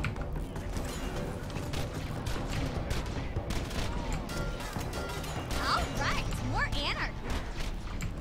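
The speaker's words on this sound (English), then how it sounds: "the shots out of this little hand cannon look like frickin' artillery fire." Rapid bursts of hand cannon gunfire in Borderlands 2 boom and crash repeatedly, heavy and loud like artillery, over a busy mix of game effects.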